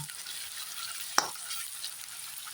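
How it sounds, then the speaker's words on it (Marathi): Garlic fries with red chilli paste in a hot pan for khichdi, a soft continuous sizzle with one sharp scrape of a spoon stirring midway, close and quiet, no voices. "ही लसूण चांगली फ्राय झाली पाहिजे म्हणजे आपली खिचडी छान होईल."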